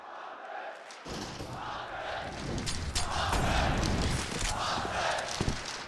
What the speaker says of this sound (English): Hunter getting his own chant from the crowd